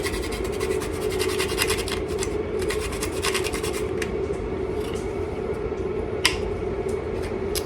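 Fresh nutmeg rasped against a nutmeg grater in a home kitchen, a steady, close scratching that runs continuously with a soft rhythmic texture and no talking.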